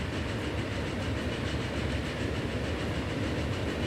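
A passenger train in Transport Fever running along its rails, a continuous close rumble with a faint rhythmic clatter, steady and unbroken throughout.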